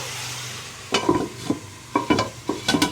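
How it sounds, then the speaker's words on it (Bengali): Chicken and vegetables frying in a pan for egg chicken fried rice, with a handful of sharp spatula scrapes and stirs, about five strokes in quick bursts over a soft background sizzle, close and fairly loud. "সবজি আর চিকেনগুলো এখানে ফ্রাই করা চলছে"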